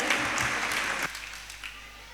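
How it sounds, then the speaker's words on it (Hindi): A burst of audience clapping welcomes a speaker at a Jain religious discourse in Jahazpur, full and close for about a second before cutting off sharply into quiet room tone. "एक बार उनके लिए जोरदार ताली बजा के उनका"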